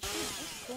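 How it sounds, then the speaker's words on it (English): Chainsaw in the video game Black Ops 3, a short burst of buzzing, revving engine tone that rises and falls slightly, heard alone and fairly close. "He had a chainsaw, boy."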